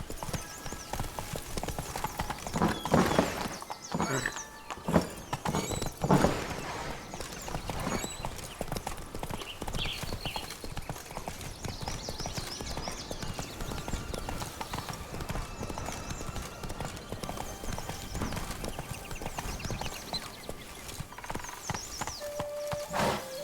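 A horse galloping in The Witcher 3: Wild Hunt's Blood and Wine expansion, with continuous rapid hoofbeats throughout, a brief whinny, and occasional game voices under the steady clip-clop.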